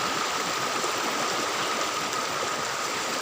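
Steady, full rushing of a jungle river stream along the Cijalu river path, a continuous broadband wash of flowing water heard close and alone, with no voices.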